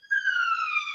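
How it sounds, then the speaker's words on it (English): A police-style siren wails in the background, a single clear tone that slowly falls in pitch, with no talking. "you probably hear a siren going on in the background."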